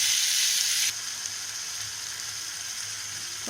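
Tomato gravy masala sautés in a pan, giving a close, steady frying sizzle that is loud at first and then drops to a softer, even hiss.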